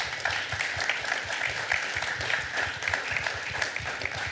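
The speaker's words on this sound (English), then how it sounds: "The applause should be given to our panels." An audience at an industry conference on AI and manufacturing applauds a panel with sustained, fairly soft clapping. Many hands patter evenly throughout.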